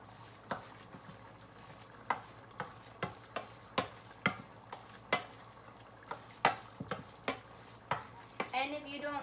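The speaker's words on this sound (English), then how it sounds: "the meat mixture is already simmering" A meat mixture for zucchini lasagna simmers and sizzles in a pan as a spoon scrapes through it in steady, regular strokes about every half second, close and fairly loud, with no voices.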